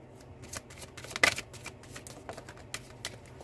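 Tarot cards shuffled by hand in a quiet room, a run of soft riffling flicks and snaps at an irregular pace, close and fairly faint, with one sharper slap partway through.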